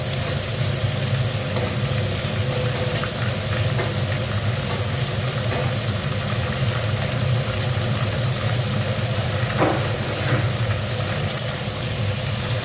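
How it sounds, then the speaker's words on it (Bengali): Steady low frying noise with a dense, continuous crackle of shrimp cooking in a hot pan, with a faint background hum throughout. "এবার এটা একটু ভাজা ভাজা করি।"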